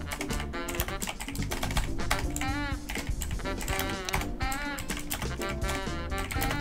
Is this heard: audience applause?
no